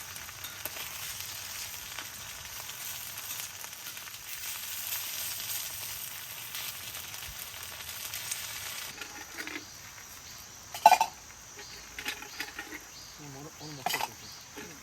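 Food sizzles in oil over a campsite stove on an autumn camping trip in a forest, a steady hissing crackle throughout with a few louder pops and clatters near the end.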